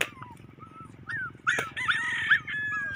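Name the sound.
puppy dog whimpering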